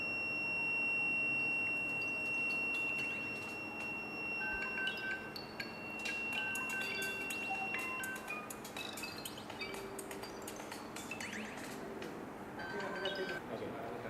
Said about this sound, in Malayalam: സ്മോക്ക് അലാം ഡിറ്റക്ടറിൻ്റെ കോള് വരുന്നുണ്ട്